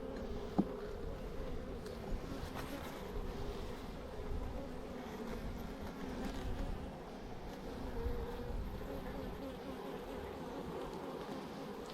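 A honeybee swarm buzzing during a hive transfer: a dense, steady drone of many bees, fairly faint but continuous throughout, with a few brief knocks and handling noises mixed in.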